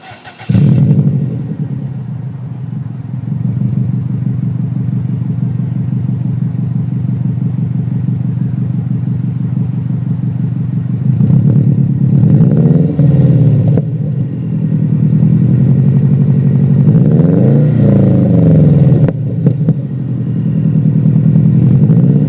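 A Subaru WRX with an aftermarket exhaust idles loudly with a steady low rumble, then revs up sharply twice, the exhaust note rising and falling before settling back to a throaty idle.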